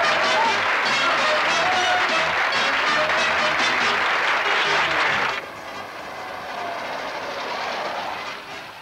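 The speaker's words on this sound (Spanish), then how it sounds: "¡Un aplauso para las mariquitas!" An audience at a live children's song performance breaks into dense, crackling applause that holds steady and then cuts off abruptly midway, leaving a quieter background.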